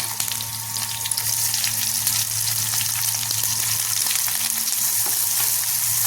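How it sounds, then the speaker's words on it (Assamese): Chopped tomatoes frying with softened onions in a pan for a mushroom gravy, a loud, dense, continuous sizzle with crackling pops throughout, close up and with no voices. "এইফালে ইয়া দেখিছেনে পিঁয়াজখিনিও সিজা হৈ গ'ল আৰু ইয়াতে মই দিছোঁ ইয়া কাটি থোৱা বিলাহী দুটা"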